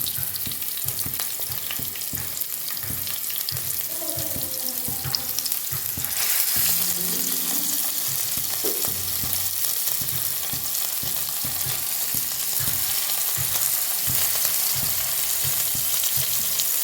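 Sardines sizzle and crackle in hot oil in a pan as they are laid in one by one, a loud continuous frying hiss with occasional stirring and clatter, no talking.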